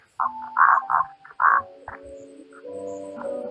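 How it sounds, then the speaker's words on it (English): A frog croaks loudly in a series of close, nasal calls, several short bursts early on, then lower drawn-out croaks trailing off, with no talk. "Rebecca, what the fuck are you doing to that frog?"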